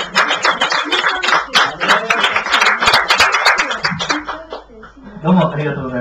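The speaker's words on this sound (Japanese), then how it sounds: "感謝を持って愛する皆様に感謝の拍手をお伝えしたいと思います。" A church congregation at a Sunday service breaks into applause in thanks, a loud burst of dense clapping lasting several seconds, fading as a voice speaks over the end.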